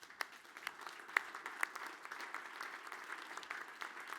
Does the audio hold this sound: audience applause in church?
yes